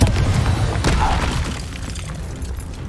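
A Confringo explosion spell in Hogwarts Legacy, a heavy boom with crackling, shattering debris that fades over a few seconds, loud and close.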